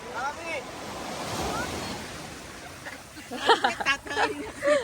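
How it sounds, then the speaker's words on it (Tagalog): Strong ocean surf rushes and crashes at San Juan, La Union, with wind buffeting the microphone; excited voices shout over the waves toward the end. "Ang lakas ng alon!"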